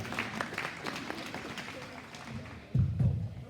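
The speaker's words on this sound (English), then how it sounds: "Let's give her a nice round of applause here in this nice competitive class." Audience at a cattle show clapping for a competitor in a livestock class, a moderate patter of applause that swells louder near the end, with a voice talking over it.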